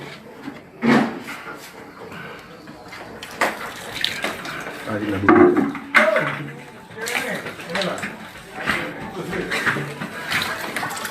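Running water from a tap splashing in intermittent bursts nearby, with clattering and handling noises, under people talking.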